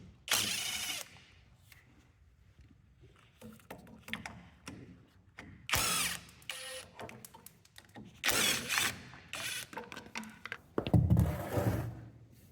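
A 3/8 inch socket on a ratchet or driver removes 1/4 inch bolts from a mower guard. The bursts of whirring and clicking are close and come in several irregular spurts, with quiet gaps and clunks between them.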